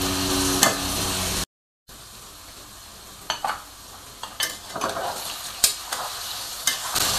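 Pieces of ash gourd and potato fry in a pan, making a steady sizzle with repeated scrapes and clacks of a spatula as they are stirred, after a short gap of silence, with no talk.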